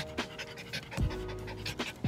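A dog pants in quick breathy bursts, close to the mic, with a few louder huffs and low rumbling handling noise between them.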